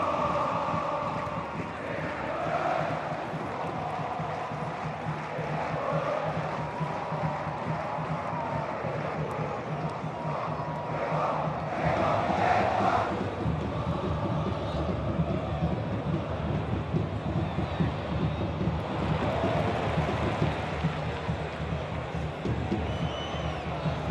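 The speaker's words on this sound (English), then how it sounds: "Bologna with the bit between their teeth here. Crowd responding to it." Stadium crowd at a Serie A football match between Bologna and Inter, a continuous loud roar and murmur that swells for a few seconds midway, with wind buffeting the microphone and faint commentary-like voices underneath.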